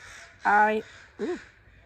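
Crows caw twice nearby, one longer harsh call and then a shorter one, with quiet between them.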